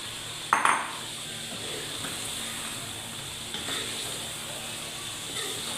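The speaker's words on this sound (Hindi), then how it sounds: "अब हम इसके अंदर आलू ऐड करेंगे।" Potato pieces dropped into a pot of frying aloo gosht, a sharp clatter of metal and a thud at the start, then a steady sizzling hiss with faint stirring scrapes.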